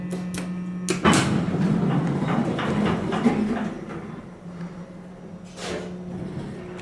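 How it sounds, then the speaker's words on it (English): Hum of an original 1970 Otis traction service elevator door operator, a steady low drone running throughout with a few sharp relay clicks near the start and again later, heard up close with no talk. "Let's listen to the door operator hum."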